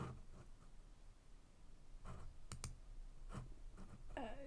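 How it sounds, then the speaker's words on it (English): Computer mouse clicking, a few faint sharp clicks spaced apart over quiet background hiss, with no talk. "Hear me clicking around there."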